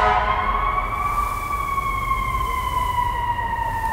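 An emergency siren wails in a New York street, its tone sliding slowly downward over steady traffic rumble, fairly loud and continuous.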